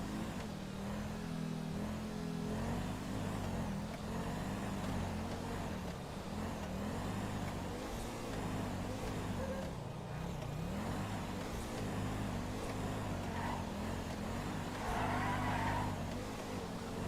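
A car engine runs steadily in a video game, a low continuous drone with slight shifts in pitch, moderately quiet and alone for the whole stretch.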